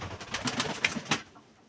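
A white pigeon kept by a Ukrainian fancier coos in a few soft, rhythmic pulses close by, then fades to quiet near the end.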